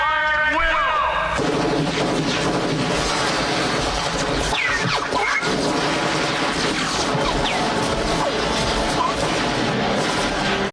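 Sustained automatic gunfire and crashing impacts from the 1987 film RoboCop as police open fire, a loud, dense barrage lasting throughout with voices mixed in.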